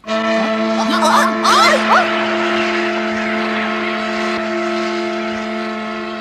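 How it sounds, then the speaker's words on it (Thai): A loud, steady engine drone with a strong humming tone runs throughout, sounding like a boat motor idling close by, with brief squeaky noises early on. "ลำนี้ยังใช้ได้เครื่องยนต์ยังทำงานได้อยู่"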